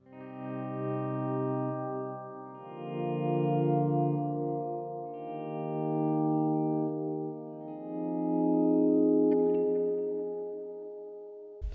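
Electric guitar played through a pedalboard with reverb and delay, slow swelling sustained chords that fade in and out in long washes, with a sharp click at the very end.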